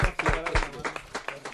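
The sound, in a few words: applause from audience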